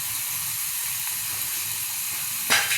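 Spices frying in a pan with pepper powder, a steady close sizzling hiss with a brief louder burst near the end.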